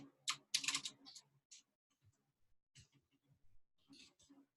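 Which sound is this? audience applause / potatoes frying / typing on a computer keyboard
typing on a computer keyboard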